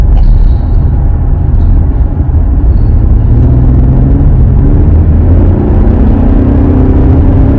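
A 2018 Chevrolet Colorado pickup cruises along a road, heard from inside the cab as a loud, steady engine drone and tire rumble with wind hiss, smooth and unbroken throughout.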